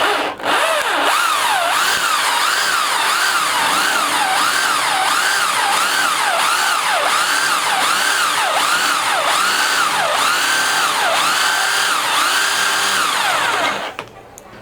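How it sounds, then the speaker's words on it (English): A handheld power drill runs continuously for about fourteen seconds, its whine rising and falling in a regular rhythm as the bit bites in, loud and close, before it abruptly stops. "And we can go ahead and start drilling."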